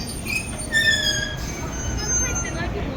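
A train passes in Nagasaki, with heavy, much-used rolling stock giving off a steady rumble and high wheel squeals, moderately loud and close, with no talking.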